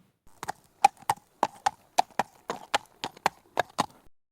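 Horse hooves clip-clop in a steady, evenly spaced rhythm of about a dozen sharp, close knocks, alone with no talk.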